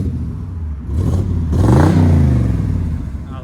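Close, loud revving from a 1985 Chevy K5 Blazer Z/71's 5.7L V8 through a Flowmaster Flow FX side exhaust, idle rumble rising into two throttle pulls that sweep upward, then settle back.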